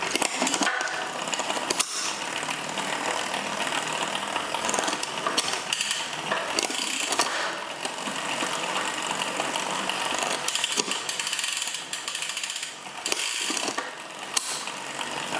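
A ratcheting freewheel mechanism on a Planet X TT bike clicks continuously near the microphone, a fast dry pawl chatter with small changes in speed and no talking.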